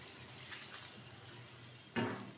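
Water poured into a cooking pan of jackfruit and potatoes sautéed with spices: a faint, steady trickle that ends in a louder splash near the end.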